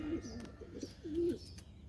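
Soft, low pigeon coos repeat in short phrases, close by, with faint rustling and a quiet background hum.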